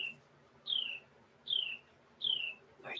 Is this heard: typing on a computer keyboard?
no